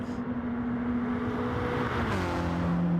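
Race cars in a GT3/GT4 sim racing qualifier run down the back straight, engines droning loud and steady with a sustained tonal whine that drops in pitch near the end as they lift.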